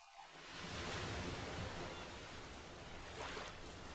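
Cold wind and surf roll along a beach in a steady, moderate wash of noise, with a brief louder gust or thump at the very end.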